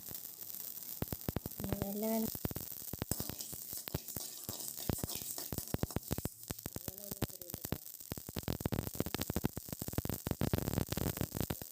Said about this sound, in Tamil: இது வெடிக்கிற சத்தம் கொஞ்சம் நின்ன உடனே நம்ம எடுத்து மாற்றிக்கலாம்